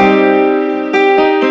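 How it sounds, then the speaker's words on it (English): Guitar sample pitched up three semitones in Ableton Live, a loud sustained chord with a couple of quick re-struck accents, dense and close with no talking. "I pitched it up three semitones so that it sounds like this."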